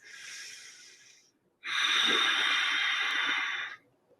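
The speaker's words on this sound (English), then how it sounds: "breathing in through the nose and out, making the ha sound, but with the lips sealed" Two close breaths: a softer inhale through the nose, a pause, then a longer, stronger exhale hissing out through sealed lips.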